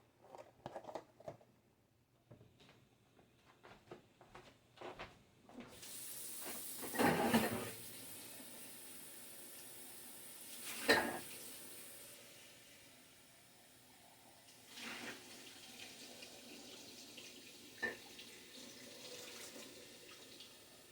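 Tap water running into a pot while making homemade chicken soup, a steady hiss of flow that starts partway through and carries on with a few louder bursts and clatter, close by, with no talking.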